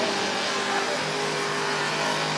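A car doing a burnout at the Red CentreNATS event in Australia, a sustained loud, dense roar of engine and tyre noise that holds steady without breaks, close and filling the scene with no talk over it.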